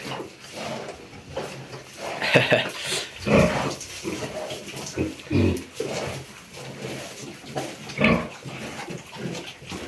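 Pigs grunting and snuffling up close, with short irregular grunts throughout and people talking over them.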